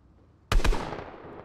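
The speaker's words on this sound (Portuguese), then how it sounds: "tem um tiro na cega aqui, só pra brincar." A single loud gunshot goes off in the video game Fortnite, a sharp crack with a quick echo that decays over about a second after a quiet start.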